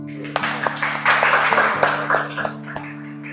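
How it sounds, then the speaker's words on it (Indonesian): Teachers at a school training session applaud after a presentation, a short burst of hand claps under steady background tones and some murmuring voices. "Ya, tepuk tangan dulu."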